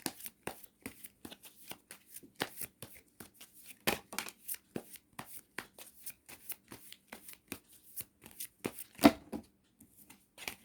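A tarot card deck is shuffled by hand, producing a long run of quick, crisp riffling and flicking bursts in an uneven rhythm, close and fairly quiet, with no talk.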